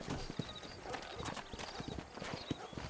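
Horse hooves clip-clopping along a trail in the video game Red Dead Redemption, a rapid rhythmic patter of footfalls with occasional snorts, under quiet game speech.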